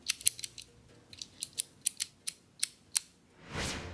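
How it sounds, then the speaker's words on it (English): A key turning in a house deadbolt lock makes a quick series of about ten crisp, close clicks as the pins set, ending with a brief sliding scrape. "Did you hear the sound of the pins clicking into their special positions?"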